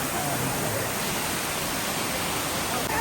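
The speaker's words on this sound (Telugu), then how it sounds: "this is the water fall" A waterfall in the USA roars as a steady, dense wash of broadband rushing water that fills the whole stretch evenly, close and continuous, with no distinct voices standing out.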